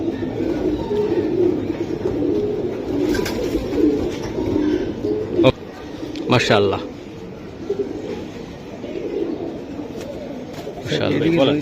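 Pigeons coo steadily in the background of a pigeon market while someone talks over them, with a few sharp knocks and clatters breaking through.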